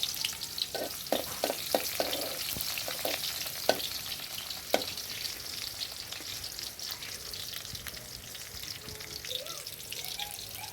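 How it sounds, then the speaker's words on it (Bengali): Chopped onions go into hot oil for a red lentil dish, giving a constant low sizzle with scattered pops and occasional spoon scrapes. "গরম হওয়ার পরে সেখানে আমি পেঁয়াজ কুচি দিয়ে দিলাম"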